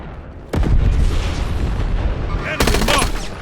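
Call of Duty gunfire: loud, close weapon bursts with a booming report, a sustained rattle, then a second sharp volley near the end.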